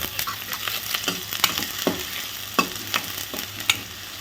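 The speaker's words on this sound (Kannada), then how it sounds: "ಇದಕ್ಕೆ ನಾನು ಹಚ್ಚಿಟ್ಕೊಂಡಿರುವಂಥ ನೀರುಳ್ಳಿ ಹಾಗೆ ಬೆಳ್ಳುಳ್ಳಿ ಎರಡೂ ಒಟ್ಟಿಗೆ ಹಾಕ್ತೆ" Onion and garlic fry together in hot coconut oil for a mutton sukka, giving a steady close sizzle broken by irregular scraping clicks of a spoon stirring the pan.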